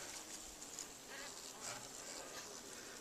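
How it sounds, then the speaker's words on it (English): Honey bees buzz around a feeder at the top of a hive during a January inspection, a soft steady drone that stays faint and even throughout with no talk over it. "We got a few bees buzzing around, and they sound pretty"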